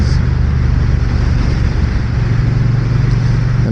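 A 2025 Triumph Bonneville T120 Elvis Presley Edition motorcycle cruises on the road, giving a loud, steady low engine drone mixed with heavy wind rush from a rider's perspective.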